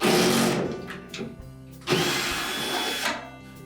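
A power driver whirs loudly to back out a 5/16 hex head screw from a bracket on a Whirlpool dryer base, a close, steady motor burst that pauses briefly and then resumes.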